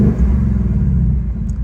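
A Ford Mustang GT 5.0 V8 with 10-speed gearbox rumbles in sport exhaust mode, a deep, loud, steady burble close by with no talk.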